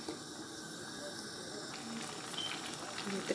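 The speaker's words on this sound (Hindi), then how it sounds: "अच्छे से हम अब इसको भूनते हैं।" Minced chicken frying in a pan, a steady close hiss and sizzle with small crackles, while a voice speaks faintly at times.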